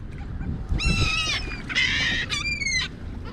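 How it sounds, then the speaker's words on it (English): Several loud, harsh duck calls in quick succession, close by, squawking over a soft breezy background. "Oh, see? I'm attracting birds."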